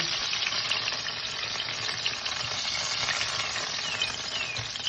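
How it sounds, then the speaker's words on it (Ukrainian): Cherry-filled pies frying in a pan, giving a steady, dense hiss and crackle of hot oil that stays close and unbroken throughout. "смажимо пиріжки з обох сторін до золотистого кольору"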